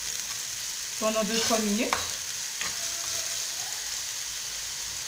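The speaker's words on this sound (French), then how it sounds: "Je vais mettre l'oignon avec les 2 gousses d'ail. Que je vais laisser un petit peu rissoler" Onion and two garlic cloves sizzle while frying in a pan, a steady crackle that runs throughout, with a stirring scrape and clatter about a second in, then a short tonal squeak.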